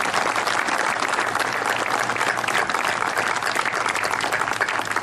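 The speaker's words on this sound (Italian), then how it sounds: "Un bel applauso alla Palmira Vedelago." A crowd at the Centro Pertini in Jesolo applauds its first president, Palmira Vedelago, with dense, loud, continuous clapping that holds steady for about five seconds without any voice.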